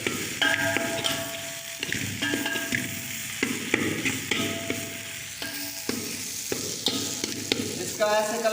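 Samosa filling with mint, green chilies and coriander is stirred in a pan, producing continuous sizzling and scraping with repeated metallic clangs and ringing taps from the spoon against the vessel.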